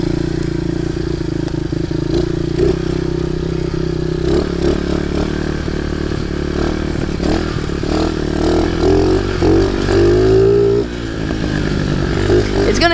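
A cheap Chinese Baja pit bike runs steadily close by as it is ridden, its small engine droning and buzzing continuously with rising revs and some rattling throughout.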